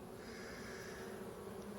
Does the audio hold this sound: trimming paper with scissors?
no